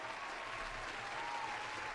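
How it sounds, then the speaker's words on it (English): Canned applause sound effect played on a podcast, a dense steady burst of clapping and crowd noise lasting about two seconds at even loudness, with no talking over it. "there's the applause"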